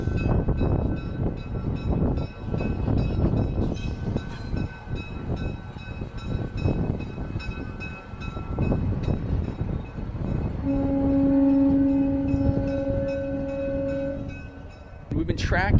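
The Big Boy steam locomotive rumbles past up close, a heavy continuous train roar with clanking wagons, then a long loud horn blast near the end, with people's voices mixed in.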